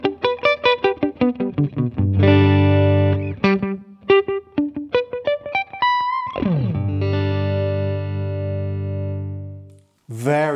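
Electric guitar on a single-coil neck pickup (split humbucker) through a JHS Milkman slapback echo delay pedal, quick plucked notes each trailed by a short echo, then a long ringing chord with a bending dip, loud and close.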